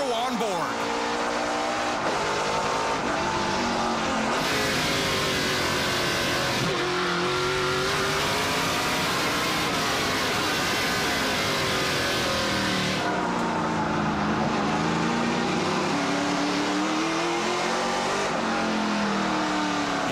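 An onboard view of a Mopar Dodge stock car racing in a NASCAR Pinty's Series event, with the engine roaring loudly and continuously, its pitch rising and falling through shifts and corners, while a commentator talks over it.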